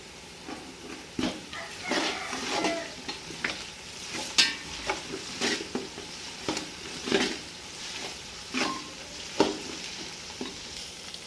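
Onion frying in a pan with ginger garlic paste added, stirred repeatedly: a steady sizzle under intermittent scraping strokes of a spoon against the pan, with occasional louder clinks.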